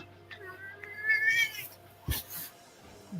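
A cat throws a fit indoors, letting out a rising, drawn-out meow followed by a short sharp yowl, fairly close and loud over quiet room background, with faint speech nearby.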